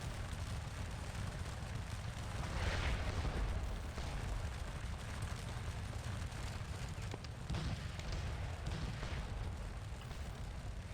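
Cannon artillery fire from deployed guns in the Waterloo battle of Scourge of War, a steady low rumble of distant booms blended into continuous battlefield din with no clear separate shots.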